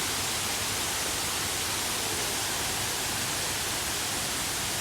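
A waterfall splashes steadily in the garden of a cafe, a dense, even rush of water that holds loud and unchanging throughout with no voices.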